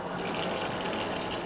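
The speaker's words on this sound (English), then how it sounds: "now we're going to run some more hot water" Warm water running steadily from a tap, a constant close hiss and splash with no pauses.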